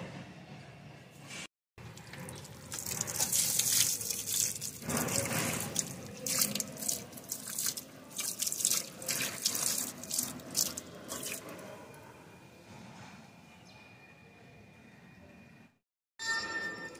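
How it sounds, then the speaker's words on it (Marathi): Water poured onto garden plants such as a basil and a lemon tree, a steady splashing and trickling stream with a short break near the start and a quieter stretch toward the end. "पाणी घालूया झाडांना"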